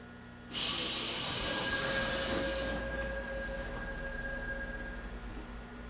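Metro train in the Hmmsim Metro game pulling away after its doors close: a sudden loud hiss, then a steady electric whine and rumble as it builds speed, close and continuous, no talk.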